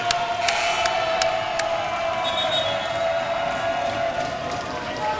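A crowd at a women's college volleyball match between Mohawk and Humber cheers loudly in a gym, with sustained noise, sharp shoe squeaks on the court and shouting voices throughout.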